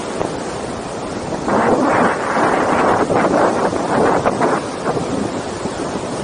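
Wind buffets the microphone on a boat ride at Wang Lao in Loei, a strong steady roar over rushing water and the boat's motion, swelling louder midway through.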